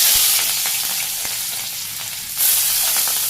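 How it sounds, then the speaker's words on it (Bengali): Sliced onions, green chilies and cumin fry in a pan with a loud, steady close-up sizzle and faint stirring scrapes, the hiss swelling briefly near the end. "ভাজি করে দিই পেঁয়াজ ভাজি করা হয়ে গেছে"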